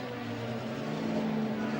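A racing car engine with a misfire runs in the pits at a 1980 Australian Endurance Championship round. It gives a quiet, steady low drone for about two seconds.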